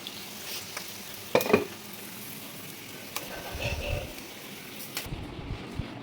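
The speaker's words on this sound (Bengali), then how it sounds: "এদিকে দেখো একটা ডিমের পোচ ওকে করে দিচ্ছি।" An egg poaching in a pan on a home kitchen stove gives a faint, steady sizzle, with a brief sharp clatter of a utensil near the start and soft handling noises later, no talking.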